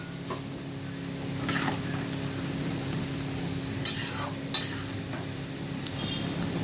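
A spoon stirs chilli chicken in its sauce in a pan as it simmers, giving a steady sizzling bubble throughout with a few sharp scraping knocks against the pan.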